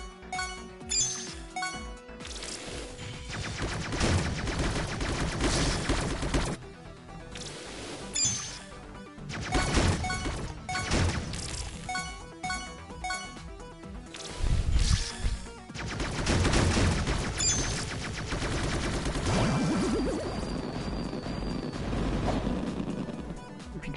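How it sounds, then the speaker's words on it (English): Dense bursts of gunfire and crashing impacts from the Crashbots video game on PS4 come in loud repeated volleys with brief pauses between them, over a backing of game music. "Is that me shooting?"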